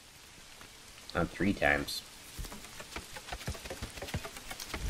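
Steady rain pattering in the medieval city-building game Manor Lords, a continuous soft hiss of drops under a brief spoken remark from a player.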